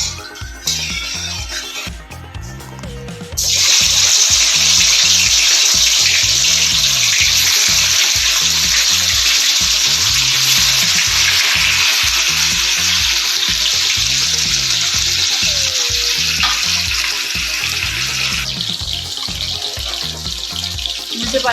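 Bhetki fish frying in hot mustard oil in a kadai, a loud continuous sizzle and hiss that jumps up sharply after a quieter start and holds steady close by.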